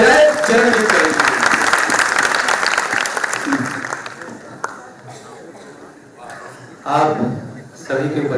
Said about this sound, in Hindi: सारा सदन जोरदार तालियां बजाए